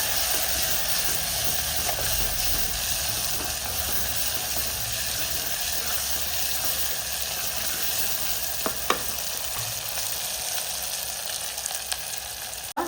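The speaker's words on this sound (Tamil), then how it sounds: "இப்போ பெரிய தக்காளி 1 தக்காளி நறுக்கி வதக்கலாம்." Chopped tomato sautéing in a pan for sambar, a steady soft sizzle and hiss with faint stirring scrapes, quiet and continuous.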